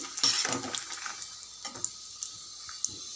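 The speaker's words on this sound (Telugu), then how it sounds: "ఒక ఇరవై గాల ఎండుమిరపకాయలు వేపుకోవాలి మీడియం ఫ్లేమ్లో పెట్టి మిరపకాయలు మాడకుండా వేసుకోవాలి" Dried red chillies frying in oil over a medium flame give off a soft, steady sizzle with faint crackles and the occasional light stir or tap of a utensil against the pan.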